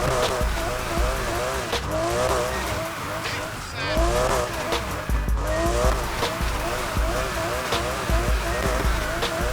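An RSR car drifting in Need for Speed Heat, its engine revving and tires squealing in long, wavering slides, loud and continuous throughout.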